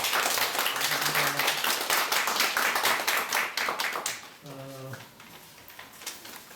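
Audience applause for a visiting lecturer at a cultural heritage group's talk, a steady dense clapping that fades after about four seconds, with a voice speaking briefly over the tail.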